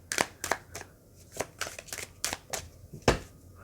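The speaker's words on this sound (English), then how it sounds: "We're going to go ahead, flip it, and do a couple more shuffles." A deck of tarot cards is riffled and shuffled by hand in several quick, crisp bursts, each a sharp flutter of snapping cards followed by brief pauses, close and clear with no speech.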